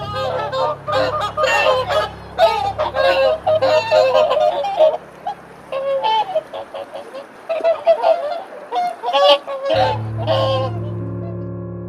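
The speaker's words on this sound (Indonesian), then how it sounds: "tiba-tiba saya mendengar suara segerombolan angsa yang begitu keras." A flock of geese honks loudly and repeatedly in dark surroundings at night, the harsh calls overlapping in dense bursts over a steady low hum, with a brief lull before the honking resumes.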